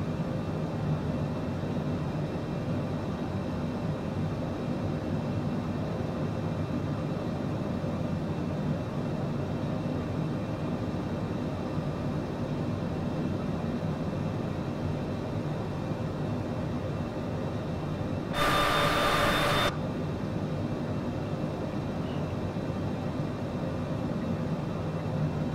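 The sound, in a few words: loud airplane engines in flight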